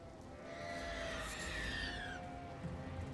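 A goat in the video game Elden Ring lets out a drawn, wavering bleat that rises and trails off over a couple of seconds, moderately near above a low background murmur.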